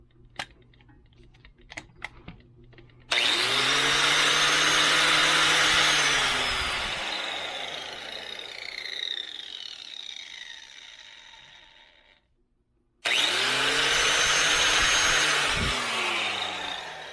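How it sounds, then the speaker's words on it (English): A Dewalt cordless angle grinder spins up loud and close, its high motor whine settling then falling away to silence before starting again, after a few faint clicks and taps at the start. "let me turn the Dewalt on"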